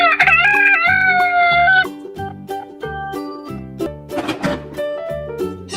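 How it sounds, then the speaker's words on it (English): A toy rooster sound plays a loud electronic crow over a bouncy backing melody, followed by repeating musical notes. "Rooster."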